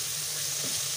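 Squid adobo sizzling as it is stirred in a pan: a close, continuous hissing fry with a faint scrape of the stir partway through.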